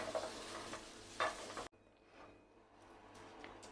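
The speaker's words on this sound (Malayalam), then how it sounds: "ഇനി ഇതിലേക്ക് ഒരു തണ്ട് കറിവേപ്പിലയും കൂടെ ചേർത്ത് കൊടുക്കുകയാണ്. ഇതെല്ലാം ഒന്ന് ബ്രൗൺ ആയി വരട്ടെ." Shallots and curry leaves are dry-roasted in a pan for a roasted coconut chutney, with a soft sizzle and scraping stirs. The sound cuts off abruptly partway through, leaving only a quiet background.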